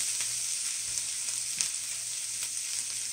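Kale sautéing in a pan gives a steady, close hiss of sizzling that runs evenly throughout, with a few faint clicks of stirring and no voices.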